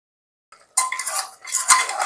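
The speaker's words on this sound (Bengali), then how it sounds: "আবার মশলাটা দিয়ে ভালো করে মাংসটাকে নাড়াচাড়া করে নিলাম।" Mutton coated in ground garam masala is stirred in a metal pot: after a brief silence, a short burst of close metallic scraping and clinking from the spoon against the pot.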